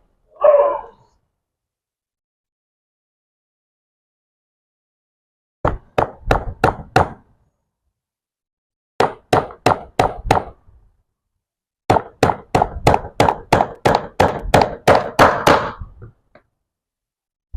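Nails hammered into wood while building a wooden hand plane: a short tap, then three bursts of sharp, rapid hammer blows, close and loud, the last burst a long run of about a dozen strikes.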